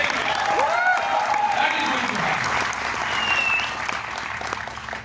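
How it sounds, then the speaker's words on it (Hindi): Loud, sustained applause from a large audience at a motivational speech event in Mumbai, a dense wash of clapping lasting several seconds, with voices and cheers mixed in beneath it. "जोरदार तालियां बजाइए।"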